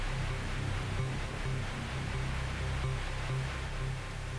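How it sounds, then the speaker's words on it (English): Steady white noise from the Vital synth in FL Studio, a constant hiss held evenly throughout with a low hum underneath, no voices. "You can hear we have that white noise in the background now."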